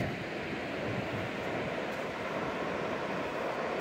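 Distant surf rolls at Tyrella Beach with the tide far out, a continuous broad hiss of waves blended with a light fresh breeze rumbling across the microphone, faint and even with no voices.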